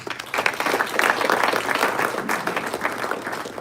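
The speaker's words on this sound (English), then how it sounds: "applause to you." A banquet audience applauds a group of coaches at a post-graduate dinner, with dense, sustained clapping across the room held at an even level throughout.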